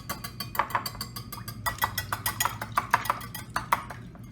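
A wire whisk beats eggs in a bowl for a wet mixture, giving quick, steady metallic clinks and scrapes against the bowl. The sound is close and fairly quiet, with no talking.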